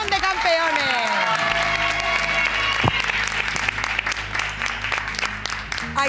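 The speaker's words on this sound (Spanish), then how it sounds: "Un aplauso para este campeón de campeones." Studio audience on a Spanish afternoon TV show applauds steadily for a young motorcycle racing champion, dense clapping filling the room throughout while a host's voice and music-like tones ring over it at the start.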